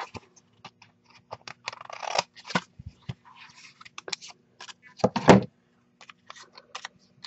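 Excess card paper being trimmed with scissors or a cutter, heard as a series of short, close snips and scrapes in irregular bursts, with quiet gaps between them.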